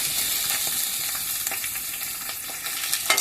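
Ivy gourds and onions fry in a pan for curry, giving a steady, close, dense sizzle with small crackles and stirring scrapes throughout, no voices over it.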